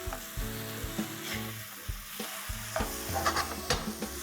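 Marinated cottage cheese pieces for veg shawarma fry in a pan over a flame, a steady close sizzle with occasional clicks and scrapes of a utensil and a background music bed, no speech.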